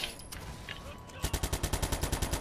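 A paintball gun fired in Watch Dogs 2: after a quiet moment, a rapid, evenly spaced string of about a dozen sharp shots.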